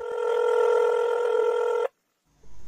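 A telephone rings with a steady electronic tone for almost two seconds and then stops abruptly, leaving a short silence before faint background noise returns.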